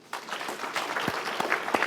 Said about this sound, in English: Can I have applause?